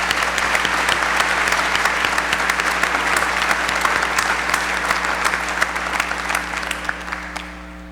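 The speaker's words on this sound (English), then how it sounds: "Please join me in a round of applause for your teachers and parents." A large audience at a high school graduation ceremony applauds steadily, a dense, loud wash of clapping that holds for several seconds and begins to thin out toward the end, with a low hum underneath.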